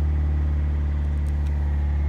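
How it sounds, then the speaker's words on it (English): A Land Rover Freelander TD4 diesel engine runs steadily with turbo boost on, giving a loud, close, even low hum with no speech. "It's interesting that the revs drop as you increase the turbo drive and the boost pressure."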